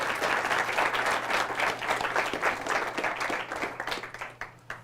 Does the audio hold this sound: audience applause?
yes